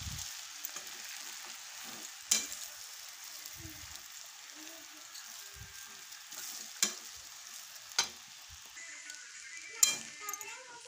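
Seasoned oggarane anna rice is stirred in a pan, making soft scraping and frying sounds, with occasional sharp clinks of the spoon against the metal, close and fairly quiet.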